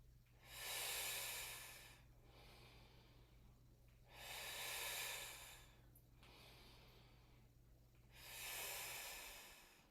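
Slow, deep breaths during a yoga strength flow: three long, airy inhales or exhales rise and fade at even intervals, close and clear, with quiet pauses between them.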